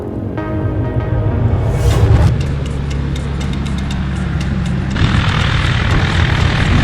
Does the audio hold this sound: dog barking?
no